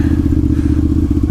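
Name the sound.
motorcycle being ridden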